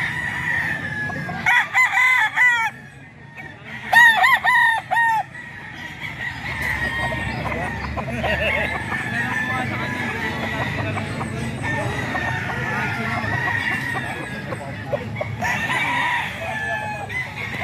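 Roosters crow loudly and repeatedly, several long cock-a-doodle-doo calls early on, then blur into a dense, continuous din of crowing, clucking and chatter from many birds at a gamefowl gathering.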